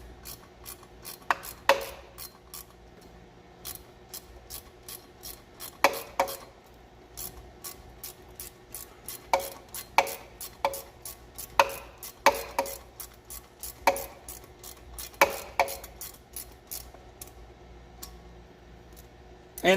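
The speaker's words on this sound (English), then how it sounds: "So let's see if maybe that will help me get this bolt started." A socket wrench ratcheting a bolt into an alternator bracket, with bursts of rapid clicking under and between faint background noise.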